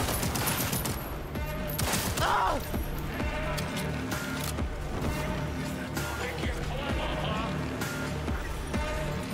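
A ricochet weapon fires rapid gunfire bursts in Cyberpunk 2077, the loud shots and impacts crowding together over busy in-game noise.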